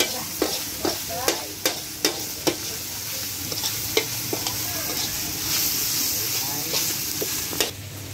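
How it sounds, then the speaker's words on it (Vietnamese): Meat grilling on a grill in an outdoor garden at night, giving a steady broadband sizzle with irregular sharp clicks and taps of utensils scattered through it, and no talking. "Đấy, đây đang nướng thịt."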